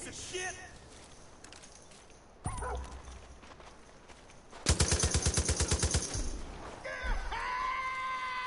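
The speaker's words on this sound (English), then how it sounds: "That's a buzzsaw gun, ain't it cool?" Buzzsaw gun firing in Far Cry New Dawn: a dense, rapid burst of repeated shots lasting over a second, set among other scattered game sounds, with a voice talking at points.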